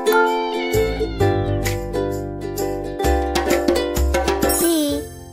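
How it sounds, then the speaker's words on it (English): A cat meows amid a cheerful children's alphabet song, the short meow mixed in with bright musical notes and a tinkling jingle. "C for cat."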